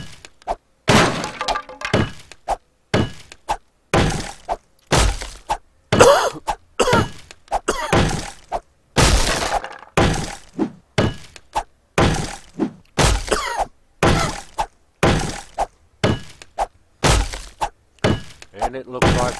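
Pickaxe strikes breaking blocks in the survival game 7 Days to Die, a steady run of loud, sharp cracking thuds repeating roughly every half second for the whole stretch, close and dry with brief gaps between hits.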